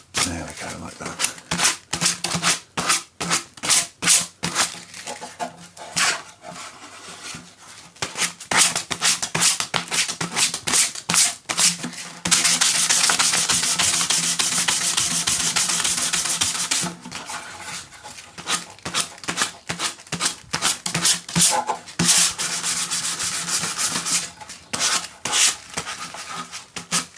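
Hand-sanding with 320-grit paper, rounding over the edges and corners of a painted wooden gun box in vintage military style: a quick series of short rasping strokes, then one sustained rub partway through, with talk in between.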